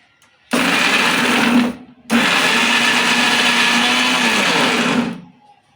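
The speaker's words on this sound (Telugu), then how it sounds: "ఇప్పుడు మిక్సీ పట్టుకుందాము" A kitchen mixer grinder whirs loudly through green chillies, salt and water in two close bursts, a short one and then a longer steady run after a brief pause, with no talking.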